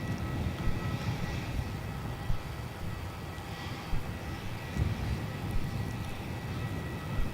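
An inbound Qantas airliner approaches Melbourne Airport, a low, distant rumble of jet engines holding steady with slight swells, heard outdoors without speech.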